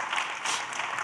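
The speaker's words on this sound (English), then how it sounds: "I just want to give another round of applause to the young men we have up here today" A live audience applauds the young men on stage at a talk on Black culture and self-determination, a steady wash of clapping held at an even level across the whole moment.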